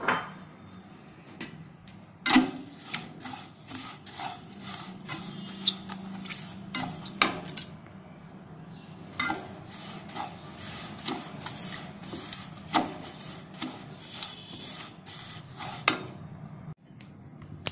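White sesame seeds roast in a hot, dry kadhai for jaggery til chikki, heard as a dense run of light rattling and scraping clicks against the metal, close and irregular, with no voices.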